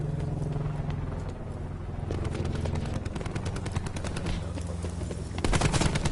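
Rapid automatic gunfire in the Black Ops 4 video game, with sustained bursts of fast shots over engine rumble and a louder burst at the very end.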